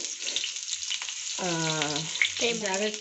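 Paneer tikka pieces pan-fry in shallow oil while being pressed and turned, a steady close sizzle and hiss with a voice talking over it in two short stretches.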